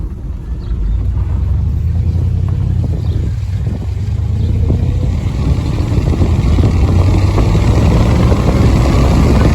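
An old Mopar 318 small-block truck engine fed from a bucket of fuel runs at a steady idle, a loud, close, continuous low rumble that holds throughout.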